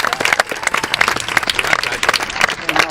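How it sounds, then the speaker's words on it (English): An audience applauds the standing class of 2017 at a high school graduation ceremony, loud dense clapping held steady throughout, with some crowd noise mixed in. "may we give them some applause"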